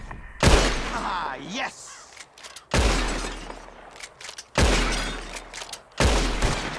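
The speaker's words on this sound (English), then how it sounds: "Whoever shoots one of these bottles wins." Gunshots shatter glass bottles during a shooting contest in Red Dead Redemption 2, four loud sharp cracks with breaking glass spaced about two seconds apart, a man's brief exclamation between shots.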